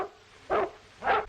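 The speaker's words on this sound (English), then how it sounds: "That dog isn't barking for nothing." Dog barking in a 1936 western, two muffled barks about half a second apart over a quiet, hissy background.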